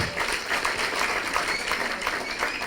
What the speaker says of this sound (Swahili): Makofi kwa Bridget